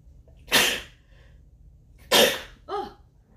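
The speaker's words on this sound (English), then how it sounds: "hold up, I gotta sneeze." Two sharp sneezes, close and loud, a second or so apart, followed by a short sniffly vocal sound in a quiet room.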